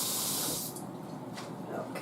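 Water runs steadily from a tap into a pan set to soak in a kitchen, a soft continuous hiss and splash that eases slightly in level partway through.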